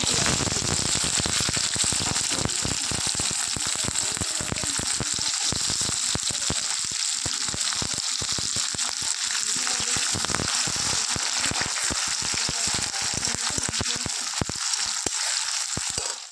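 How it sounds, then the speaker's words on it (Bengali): Dried chillies, whole cardamom and cumin crackle in hot oil, a loud, close, continuous sizzle full of sharp popping spatters that runs throughout before cutting off at the end. "শুকনো লঙ্কা, গোটা এলাচ আর একটু জিরে দিয়ে ফোড়ন দিয়ে দিলাম"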